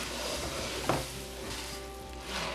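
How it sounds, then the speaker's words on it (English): Food sizzles steadily in a hot pan while being mixed, a soft continuous frying hiss with one brief utensil knock near the start, close and quiet with no voices. "I'm just going to mix this all in."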